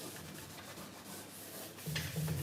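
Steady rasping of sandpaper rubbed back and forth over wood, soft and continuous, with a faint low hum entering near the end.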